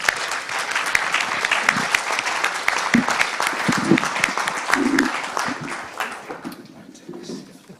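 Audience applause at the close of a PEFC stakeholder dialogue panel, a sustained wash of many clapping hands that tapers off near the end, with some voices underneath.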